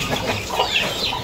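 A chicken clucking on a farm, with close, busy fowl sounds over a short stretch and no talk.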